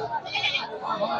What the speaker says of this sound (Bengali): ছাগল আমাদের এই হাটে আছে।